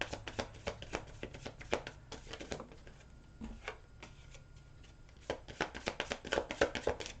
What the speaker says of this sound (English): one more little shuffle here for Leos.